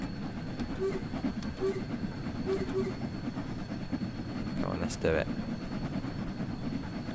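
A steam locomotive in the Train Sim World 2 game hauls a heavy load uphill on the Liverpool–Crewe line with a steady chugging rumble, rhythmic clicks and a brief squeal, while someone talks over it.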